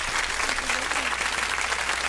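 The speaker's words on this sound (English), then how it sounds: "Let me give you a welcome round of applause." A studio audience gives a welcome round of applause for a first-time guest on an interview show, dense steady clapping filling the whole moment at close range.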